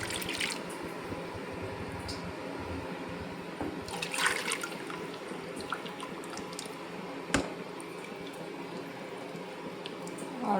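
Beetroot halwa mixture is poured into a pan on the stove, giving soft wet dribbling and squishing sounds with occasional faint clinks, fairly quiet throughout.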